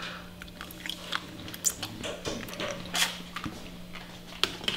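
Someone chews pasta noodles to test whether they are done, with close, wet, irregular bites and soft squishy crunches, no talking.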